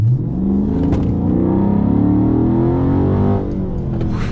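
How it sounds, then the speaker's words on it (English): A 2018 Dodge Charger Scat Pack muscle car accelerates hard, its engine roaring loudly and rising in pitch as it revs up close by, steady and strong across the whole stretch. "Let's give it some gas."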